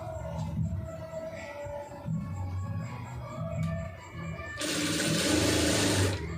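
A sewing machine runs in short whirring bursts, stitching thread piping onto a garment sleeve. The motor stops and starts, then a louder, steadier run closes it out.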